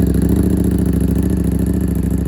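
A sport motorcycle engine running loud and close, a steady mechanical drone with a fast pulsing rhythm throughout.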